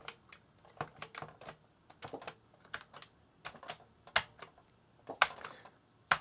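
Keys clatter on a computer keyboard attached to a Commodore C64 or C128 setup, heard close up as uneven bursts of sharp taps with short pauses between them and no talking.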